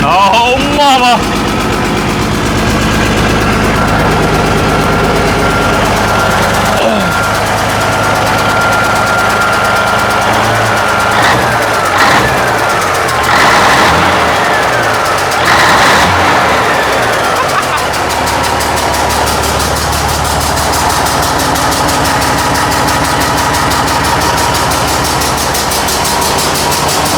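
A 1981 Kenworth W900A truck's Cat 3406 diesel engine, a project vehicle being tested for whether it will start, runs loud and close with a rough, steady roar and an audible tick, while people talk over it at times.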